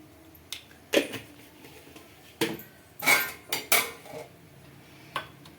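Garam masala and dry coconut powder are pounded for a chicken curry, heard as a handful of separate sharp metallic thuds and clinks at uneven intervals over a quiet background, with no talk.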